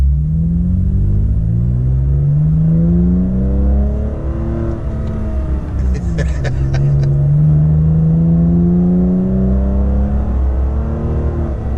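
A Toyota Tacoma pickup engine revs up from first gear under manual shifting, its drone climbing in pitch, dropping at a shift, then climbing again. The roar is loud and steady inside the cab, with a brief clatter midway.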